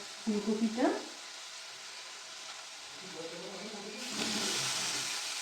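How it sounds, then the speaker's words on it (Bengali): Cauliflower is added to a pan of frying tomato, turmeric and water for a cauliflower fish curry and gives a soft sizzle that builds toward the end, while a person talks quietly earlier in the stretch. "ফুলকপিটা ভাজা ভাজা করতে দিয়ে দিচ্ছি।"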